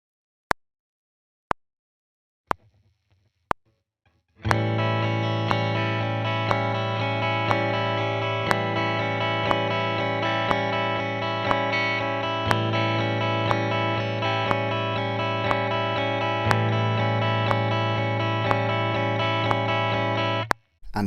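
A few metronome clicks count in, then a distorted electric guitar strums a rapid, steady stream of even sixteenth-note strokes, with the clicks continuing beneath.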